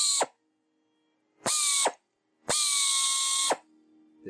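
A Rockwell 90° threaded air angle drill, 2800 RPM with a 1/4-28 thread, runs in three separate high whining bursts: a very short blip, a half-second run, then a longer one-second run, with quiet between.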